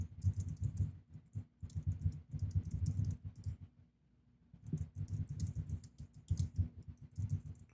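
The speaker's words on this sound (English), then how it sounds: "your typing is the dead air" Bursts of rapid typing on a computer keyboard during a debate-style show, close and steady, pausing briefly in the middle before the clatter resumes, with no talking over it.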